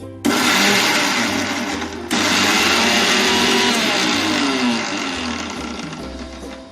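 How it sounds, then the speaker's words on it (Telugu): A mixer grinder loudly whirs as it grinds soaked chillies into a paste in its jar, running steadily with a brief pause and restart, its motor pitch shifting slightly as the load changes. "ముందుగా మనం గోలిచి పెట్టుకున్న మిరపకాయలు ఏవైతే ఉన్నాయో అవి ఒక జార్లో తీసుకొని గ్రైండ్ చేసుకోవాలి పేస్ట్ లాగా"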